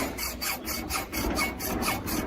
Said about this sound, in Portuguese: Extremamente duro, até a serrinha tá sofrendo aí para